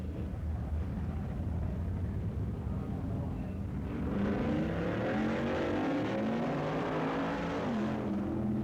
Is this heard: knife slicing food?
no